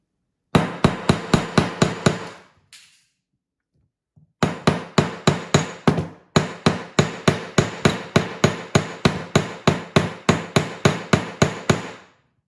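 A hammer strikes metal pieces down on a cold-connection earring, loud sharp ringing blows in steady rapid runs, with a short pause after the first burst before the pounding resumes.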